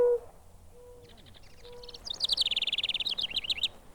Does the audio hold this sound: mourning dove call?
yes